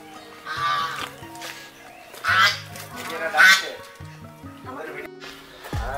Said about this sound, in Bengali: প্যাক ওই বড় রাজহাঁস আছে এখানে।